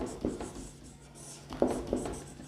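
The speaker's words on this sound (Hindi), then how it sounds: "जैसे मैं एक एग्जांपल लिख देता हूँ" Chalk or marker strokes on a board as an example is written, with a few short scratchy strokes at close range separated by brief pauses.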